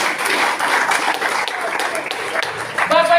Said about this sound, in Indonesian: Tepuk tangan pelan-pelan.